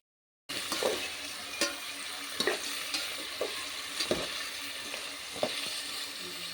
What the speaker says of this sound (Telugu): క్యారెట్, బంగాళదుంప, బీట్రూట్ ఆయిల్లో వేసేసింది